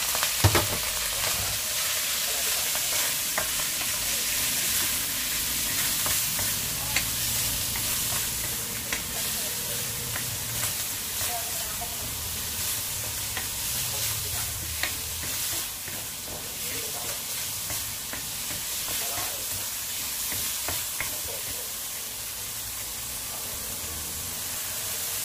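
Bacon sizzles and crackles steadily in a pan with a little oil, a constant bright frying hiss with occasional stirring scrapes, close and loud throughout.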